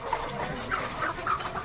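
Chickens, egg-laying layers, cluck and warble in short, overlapping calls close by, several birds chattering in a brief, busy burst.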